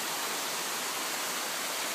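A natural waterfall pours in a constant, full rush of white noise, close and unbroken throughout, with no voices.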